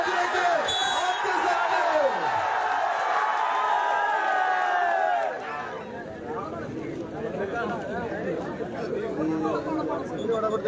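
A cheering crowd at a tug of war grand final roars loudly, with a bright, whooping surge at first that drops into dense chatter and clapping as an announcer talks over it.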